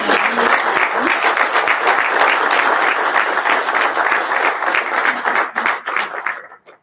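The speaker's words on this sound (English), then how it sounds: "If you're able to stand as you're able so we can clap for you." A dinner audience gives warm applause for a group being honored, loud and sustained clapping that thins out and fades to a few last claps near the end.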